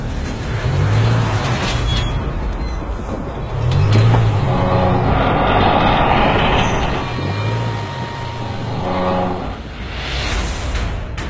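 A Land Rover Discovery Sport fitted with rail casters tows a train along the tracks, giving a loud continuous engine and rolling rumble with periodic low thumps and clanks from the rails, no voices.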